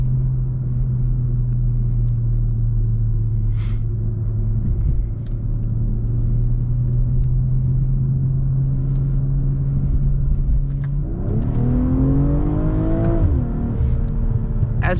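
The inline-six turbocharged engine of a 2023 BMW M340i xDrive with an 8-speed automatic drones steadily from inside the cabin, then downshifts and revs, its note rising sharply and then settling.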